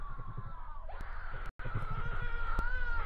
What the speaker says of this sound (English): I can hear Suicide Mouse screams in the background